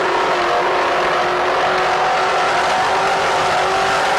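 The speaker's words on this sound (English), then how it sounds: "Let's listen to more engines." Racing powerboat engines roar steadily and loudly at the 1994 Lake of the Ozarks boat race, with a continuous, dense drone that has no pauses or talk.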